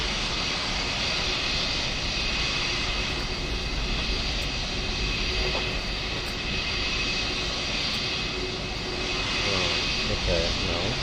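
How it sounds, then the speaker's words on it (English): Boeing 747-8 jet engines roar steadily at takeoff in Microsoft Flight Simulator, a dense, unbroken wall of engine noise that holds loud and close for the whole stretch. "Boeing 747-8 take off"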